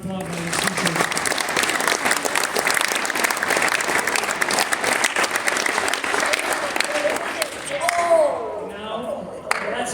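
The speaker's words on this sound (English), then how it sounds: "if you could give them a huge round of applause, I would appreciate it" Sustained audience applause for athletes at a sports awards ceremony, dense and steady clapping for about eight seconds before it tapers off, with a few voices at the end.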